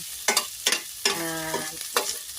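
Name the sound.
ginger and onion sautéing in a pan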